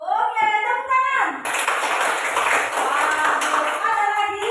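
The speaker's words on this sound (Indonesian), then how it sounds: "Oke, tepuk tangan." Students in a classroom clap together for a group presentation, a dense burst of hand claps that starts after a brief voice and continues steadily, fairly close.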